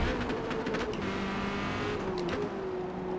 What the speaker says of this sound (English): Bounce the car off the rev limiter.